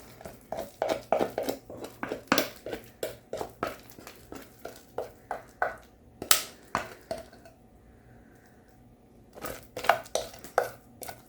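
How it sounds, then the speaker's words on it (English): A spatula scrapes thick funfetti cake batter from a bowl into a loaf pan, giving a run of close, fairly loud scraping and tapping strokes, a short quiet pause, then a few more strokes. "make sure you scrape down that bowl and get all of the mixture"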